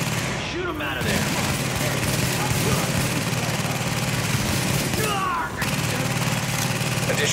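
Sustained gunfire in the video game Tom Clancy's The Division, a dense, continuous rattle of automatic fire with engine-like rumble beneath, loud and close throughout with a brief lull near the middle.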